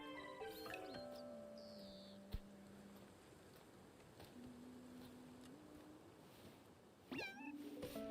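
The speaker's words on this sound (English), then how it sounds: "There's a cat that needs grooming." A cat in the Infinity Nikki video game gives several drawn-out meows, wavering and a little faint over soft background game sounds, with a brief click partway through.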